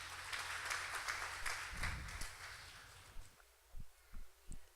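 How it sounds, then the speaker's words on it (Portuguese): A church congregation claps during a Portuguese-language sermon: a faint, steady patter of applause that thins out after a few seconds, leaving scattered soft knocks and near silence. "Pode aplaudir ao Senhor, irmãos."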